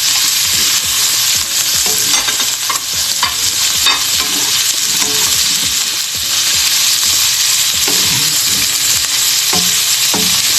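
Pork liver frying in a hot pan for pork igado, a loud continuous sizzle close by, with scattered stirring clicks and scrapes throughout.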